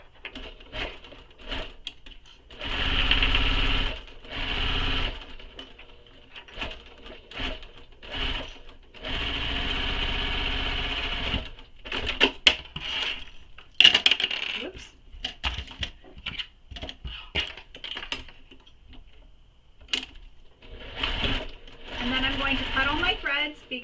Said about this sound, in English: we're going to baste around all the edges to hold them together